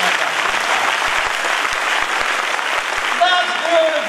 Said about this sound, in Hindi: एक तालियां बजा दो जबरदस्त।